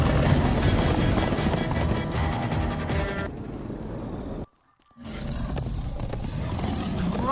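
Rapid galloping horse hooves in Minecraft: Story Mode pound under a loud, dense game soundtrack, cutting out abruptly for a moment of silence before resuming.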